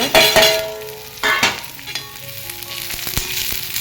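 Chopped onion dropped into a pan where garlic has already browned crackles and sizzles in oil, with sharp bursts of stirring up front and a softer, continuous frying hiss afterward.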